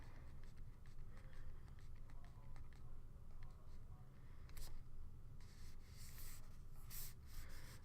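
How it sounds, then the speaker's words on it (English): Pen or pencil marks being drawn as dots on paper, a soft rhythmic series of light taps and scratches, close but faint, with a brief brushing rustle partway through. "In my set model, I'm going to draw out 15"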